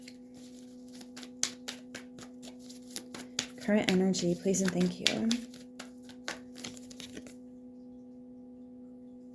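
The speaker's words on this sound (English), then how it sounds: "I kind of need to shuffle the cards" Tarot cards being shuffled in repeated crisp riffling bursts, close and fairly loud, with a steady hum underneath and a person talking partway through.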